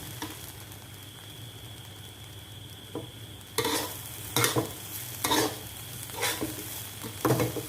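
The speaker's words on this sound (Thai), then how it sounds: "คั่วเครื่องให้มันหอม" Spices dry-roasting in a pan for Lao jaew bong chili paste, with a steady faint sizzle, a sharp high whine throughout, and repeated scraping stirs that come in loud, rhythmic bursts during the second half.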